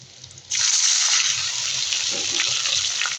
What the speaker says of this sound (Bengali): এখন আমি অল্প একটু পানি দিয়ে দিব।